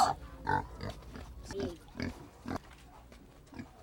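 Pigs on a farm grunt and snuffle nearby in short irregular bursts, moderately loud, with a few squeals among them.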